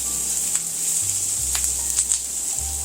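Minced garlic dropped onto softened onions in a hot pan, a steady close sizzle and crackle with a few faint stirring clicks, no talk.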